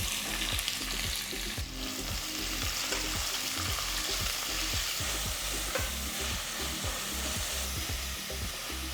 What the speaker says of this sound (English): Saute the onions for 2 minutes,